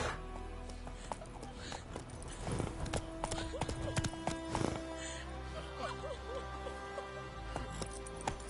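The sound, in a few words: horse galloping in video game The Witcher 3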